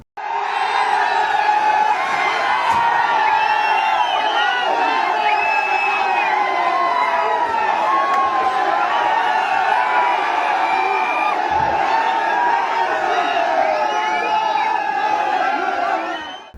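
A large frenzied mob shouts and cheers during the Baloda Bazar riot, a dense, continuous wall of overlapping yelling and whooping voices that holds loud for the whole stretch before cutting off abruptly.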